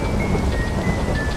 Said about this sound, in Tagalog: Malakas ang ulan at hangin.